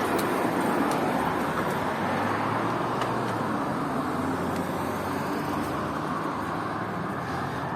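A car driving along a road on the way home after passing Dezhnevo, its steady road and engine rumble continuous and fairly close throughout, with no talk.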